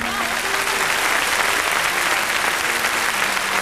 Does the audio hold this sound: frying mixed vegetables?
no